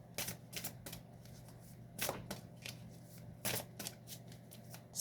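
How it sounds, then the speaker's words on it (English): Tarot cards shuffle in several crisp riffling bursts with soft flicks between them as a purpose card is drawn, close and fairly quiet, no voice. "I'm going to throw a purpose card out here"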